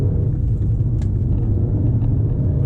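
An all-wheel-drive Volkswagen Golf R drones on the move, a steady, loud low rumble heard from inside the car with no talking.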